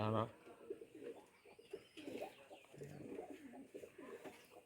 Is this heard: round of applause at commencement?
no